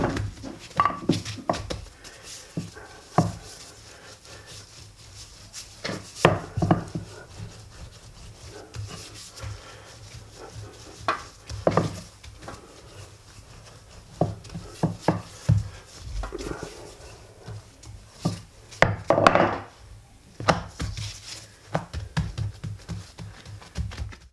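Pastry dough for a steak pie being rolled out with a rolling pin to about half an inch thick, heard as repeated close rubbing, wooden rolling strokes in irregular bursts with no talking.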